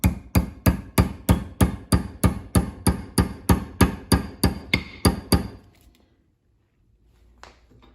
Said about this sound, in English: And we're gonna hammer that home.